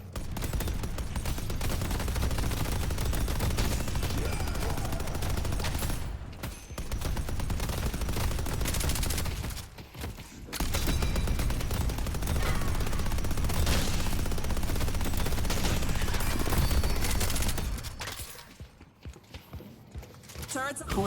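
Automated turrets in a game fire in long, dense rapid-fire bursts, loud and continuous with brief gaps, and a voice talks over parts of the shooting.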